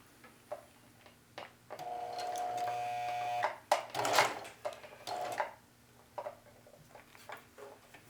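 A sewing machine running a straight stitch on a jeans pocket: a short steady mechanical whir of about two seconds, followed by scattered clicks and handling noises, close and fairly quiet.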